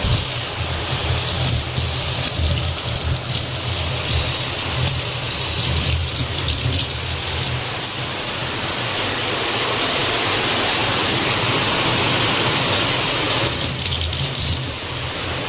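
Heavy rain pours steadily and loudly, a dense unbroken roar of falling water throughout.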